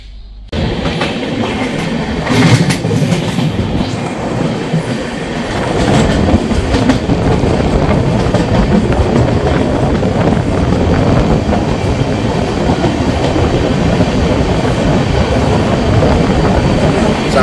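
The 13126 Sairang–Kolkata Tri-Weekly Express runs on its rails on its first commercial journey, a loud, continuous close rumble with rhythmic clickety-clack of the wheels, steady for the whole stretch.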